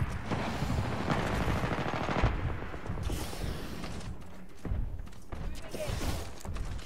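Gunfire from a charge rifle in Titanfall 2 sounds as loud bursts and rapid shots over dense battle noise, with crashes and thuds scattered through and a faint voice underneath.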